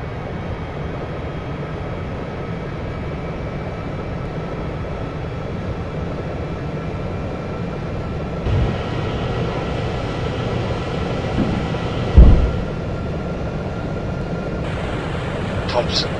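Airplane taking off from runway 18 right at Chiayi Airport: a steady, droning engine roar that swells and grows brighter partway through, with a brief louder thump near the end and faint voices underneath.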